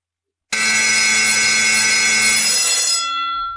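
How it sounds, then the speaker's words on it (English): A harsh alarm clock blares after half a second of silence: a loud, piercing, sustained electronic buzz with rich harsh overtones that holds steady for over two seconds, then thins and cuts off. "If your alarm clock at home sounds like that, please change it."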